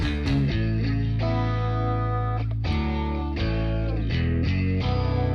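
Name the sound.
electric guitar playing held chords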